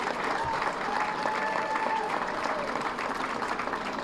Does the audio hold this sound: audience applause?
yes